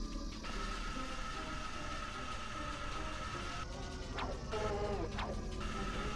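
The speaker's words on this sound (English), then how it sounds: "The fucking noises that the train makes." Train noises in the Ratchet & Clank video game: a steady, faint rumbling rail clatter with metallic screeches and clanks sweeping through near the end, with no talking.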